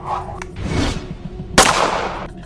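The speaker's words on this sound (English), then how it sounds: "he snaps his pistol out and opens fire" A pistol fired in a dramatic tabletop horror scene, with a sharp loud crack about halfway through that follows softer scuffling and rumbling effects.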